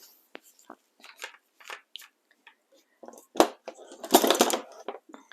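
Scissors snip through a paper flap on a vintage floral journal kit in a few short, crisp cuts, with brief crunchy bursts toward the end against a quiet background.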